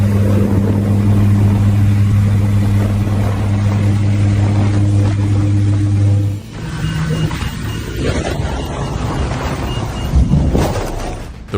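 A helicopter engine running over Hawaii makes a loud, steady drone with a strong humming tone. It cuts out abruptly partway through, leaving rushing wind and a rough rumble.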